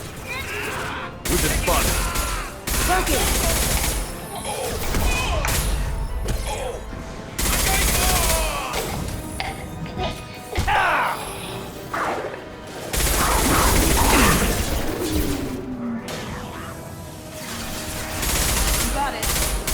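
Combat in the Mass Effect 2 video game: loud, dense bursts of gunfire and crashing impacts arrive in repeated volleys, with characters calling out over the shooting.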